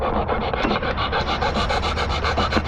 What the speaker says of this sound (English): Put the file on it.